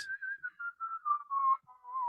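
A person whistles a short melodic tune, imitating Wayne's whistle from Wayne's World, clear wavering notes with vibrato in several short phrases, close and alone.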